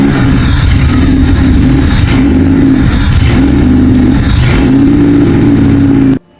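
Honda D15B engine revving hard right after a new part was fitted, a loud, close, steady buzzing drone with rising and falling pitch over several blips, ending abruptly.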